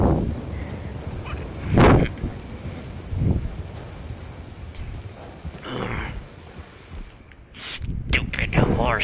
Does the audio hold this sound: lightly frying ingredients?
no